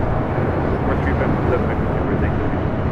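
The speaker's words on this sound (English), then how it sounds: "we've got a Polar Air Cargo 7478 rolling down at 25 left" A Polar Air Cargo Boeing 747-8 rolls for takeoff on runway 25 left at LAX, a steady broadband jet roar filling the whole stretch with no letup, likely with a voice talking over it.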